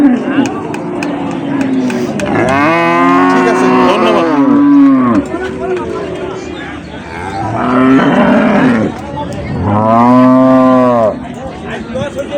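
A dairy cow and calf of an improved breed moo loudly at the Ambari cattle market in Dinajpur. There are several long, drawn-out calls up close, with people talking nearby in between.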